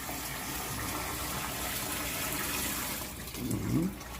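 Hands being washed under a steadily running tap, a loud, continuous splash of water close by, with a brief shift in the flow near the end.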